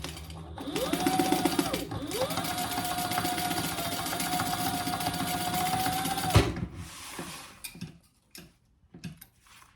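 A sewing machine runs a continuous stitching burst over tape on a backpack, a fast, even mechanical whir lasting about six seconds, close by. It then stops, leaving a few soft handling knocks.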